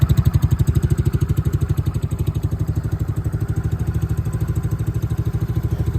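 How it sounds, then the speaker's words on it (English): A Tao Tao 110cc four-stroke motorcycle engine idles up close, with a loud, even, rapid putter that holds steady throughout. "This engine is a 4-stroke motor."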